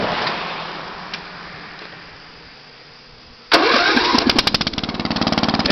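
A racing lawn tractor engine cranks briefly, then catches abruptly and settles into a loud, rapid, pulsing run close by.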